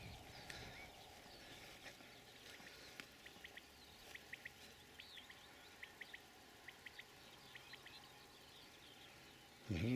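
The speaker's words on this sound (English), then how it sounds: "But seemingly it's a quail, a common quail." Faint, distant common quail calls repeat in short rhythmic triplets from a barley field against quiet outdoor background noise, ending with a brief close rustle.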